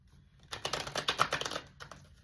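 A soft, rapid flurry of papery clicks as cards are shuffled close by, building up and then trailing off.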